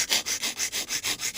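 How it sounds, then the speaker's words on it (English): Nail file rubbing back and forth across long polygel nails to reshape them into a thinner square, about eight steady even strokes close up with no talking. "I trimmed down the nails and now I'm going to reshape them"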